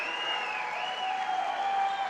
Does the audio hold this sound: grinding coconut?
no